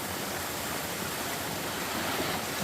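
An autumn mountain waterfall gives a constant, even rush of falling water, close and steady with no pauses or voices.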